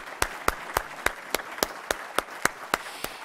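At an inaugural fundraiser for the David Abraham Grossman Fund for Social Justice, clapping for a singer after her song comes as a dozen crisp, evenly spaced claps in a steady rhythm, close and fairly sparse.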